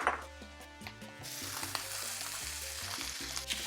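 Pork pieces with linguiça sausage and chopped onions fry in a pan, a steady loud sizzle that swells after the meat and onions go in, with occasional stirring clinks and no voices.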